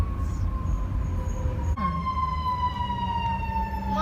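Fire truck sirens wail continuously as engines head through Hollywood toward a wildfire, a steady rising and falling tone with a sharp pitch shift partway through over rumbling traffic noise, loud and fairly close.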